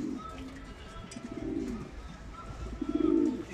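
Domestic racing pigeons giving soft, low, throaty coos in a loft, repeated a few times at close range over a faint background hum.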